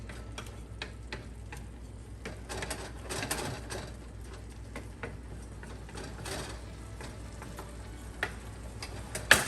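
Onions frying in a pan for stuffed green peppers in a home kitchen, a soft continuous sizzle with faint scattered crackles and pops, quiet and close with no talking.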